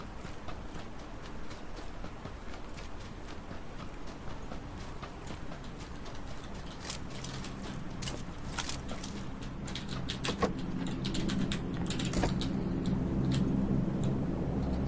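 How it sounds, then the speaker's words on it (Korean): Footsteps in the battle royale game PUBG (Battlegrounds): scattered light taps and clicks that grow busier and slightly louder over a steady low hum. "발소리 난 거 같아요."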